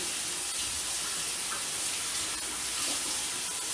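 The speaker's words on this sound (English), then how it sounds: "I'm running hot water over it to rinse it" Hot water gushes steadily from a kitchen tap over cooked macaroni pasta in a sink, a loud, close, unbroken hiss of running water.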